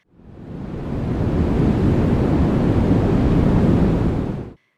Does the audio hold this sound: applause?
no